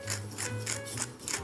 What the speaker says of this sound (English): Grind the pepper.